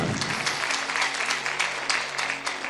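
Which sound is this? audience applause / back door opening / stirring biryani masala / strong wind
audience applause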